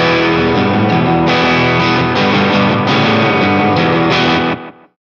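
Electric guitar played through a Danelectro FAB 600ms delay pedal with the mix turned fully up, chords ringing with dense stacked repeats that smear together almost like reverb, loud throughout before fading out at the end.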